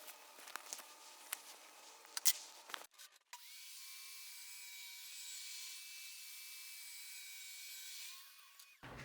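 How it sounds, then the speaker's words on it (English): Table saw ripping strips of MDF: light shop handling noises first, then the blade runs in a steady, smooth whirring drone for several seconds before winding down. "I already have my table saw set to the same width as this, so I'll just go and rip up a few strips of this MDF."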